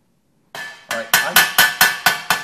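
A hammer strikes metal about eight times in a steady, accelerating rhythm, each blow loud, close and ringing briefly before the next.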